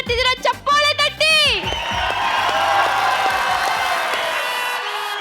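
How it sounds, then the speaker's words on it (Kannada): A studio audience at a Kannada comedy stage show breaks into loud, sustained applause and cheering, following a brief burst of shouted voices at the start. "ಚಪ್ಪಾಳೆ ತಟ್ಟಿ"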